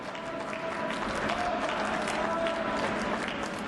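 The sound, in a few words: crowd applauding at curling match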